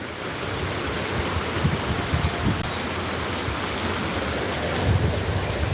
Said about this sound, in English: It's just freaking pouring, guys.